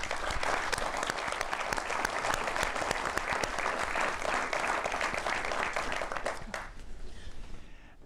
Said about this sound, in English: Please help me in giving them another round of applause.